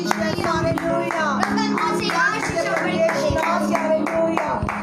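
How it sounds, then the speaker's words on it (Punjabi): Congregation at a church service clapping in welcome for a preacher, rapid overlapping handclaps from many people, with voices and music in the background. "ਅਸੀਂ ਪਰਮੇਸ਼ਰ ਦੇ ਦਾਸ ਦਾ ਅਸੀਂ ਸਵਾਗਤ ਤਾਲੀਆਂ ਦੇ ਨਾਲ ਕਰਾਂਗੇ"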